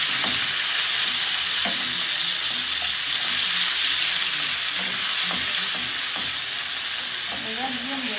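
Meat frying in hot oil while being stirred, a continuous loud sizzle and crackle with intermittent scraping clicks of a utensil against the pan.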